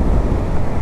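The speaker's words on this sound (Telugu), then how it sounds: "కాబట్టి విండ్ బ్లాస్ట్ మామూలుగా లేదు" Strong wind buffets the microphone on a road crossing an island with sea on both sides, a loud, steady low roar with no voices.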